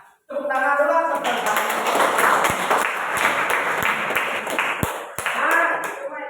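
A classroom of students claps together for several seconds in dense, uneven applause, with a few sharp taps and voices heard at the start and end.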